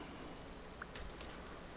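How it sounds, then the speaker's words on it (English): Rain falls in the Vintage Story video game as a soft, even hiss of drops on surfaces, faint and steady, with a couple of brief louder patters midway. "Whew, it did rain."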